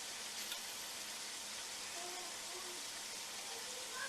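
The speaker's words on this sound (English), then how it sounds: "And now I'm adding my garlic." Garlic goes into a pan of softened vegetables for caldo gallego, giving a faint, steady, even sizzle throughout with no pauses.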